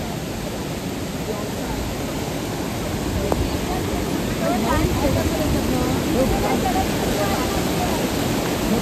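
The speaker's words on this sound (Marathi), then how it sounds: "तर मित्रांनो बघू शकता तुम्ही नदी किती वाहते." A river flows strongly near a trekking route to Mahuli Fort, a dense broadband rush of water filling the whole stretch, steady and loud with slight swelling toward the end.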